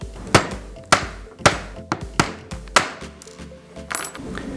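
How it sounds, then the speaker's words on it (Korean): Hammer striking an awl against a pin in a rod guide bracket supported between two pieces of wood: five sharp metallic taps at steady intervals, then lighter, quicker knocks, close and clear. "여기에 브라켓을 놓고 송곳을 대고 망치로 두드리면 빠지겠죠?"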